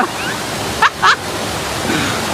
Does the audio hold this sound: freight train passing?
no